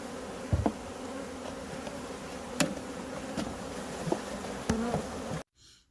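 Dense swarm of agitated honeybees buzzing close by at the hive during acacia honey harvest, a constant droning hum with a few louder passes and taps before it cuts off.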